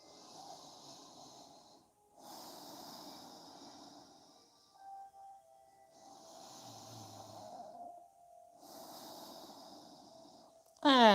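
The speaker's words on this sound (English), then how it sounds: "breathing through your nose" Slow, steady nasal breathing during a yoga session: soft, airy inhales and exhales through the nose repeat in a calm rhythm, close and quiet, with brief pauses between breaths.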